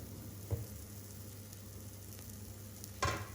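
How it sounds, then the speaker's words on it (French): Pancake batter sizzles in an oiled frying pan over low-to-medium heat, a steady soft hiss close by with two brief clinks or taps, no voices. "on verse la pâte à l'aide d'une louche"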